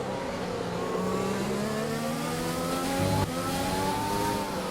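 Formula 1 racing car engine in a video game at the Austrian Grand Prix, a close, steady high-pitched whine with rising and falling gear pitch, loud and continuous with no talk.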